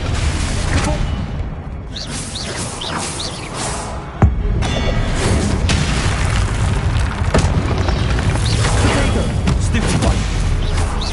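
Confringo fire spells exploding during a fight in the Hogwarts Legacy video game, a dense, loud stretch of booming blasts and crackling impacts over a rumbling battle bed, with one sharp hit standing out.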